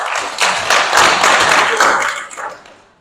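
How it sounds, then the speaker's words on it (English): An audience at a student council presidential aspirants' convention claps loudly for a speaker in a dense burst of applause that swells, holds for about two seconds, then fades. "And now that you have done the first clap"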